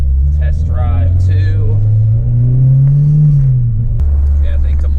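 A 2004 Acura RSX Type-S with a K20A engine pulls hard on a test drive, its loud cabin-side engine drone climbing in pitch, then dropping back, while people talk over it.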